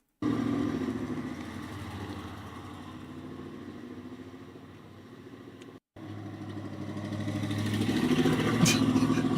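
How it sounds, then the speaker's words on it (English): A V8 engine running on only six cylinders rumbles nearby with an uneven, lumpy idle, then dips briefly and rises again as it revs a little louder near the end. "That's a V8 running on 6 cylinders, dude."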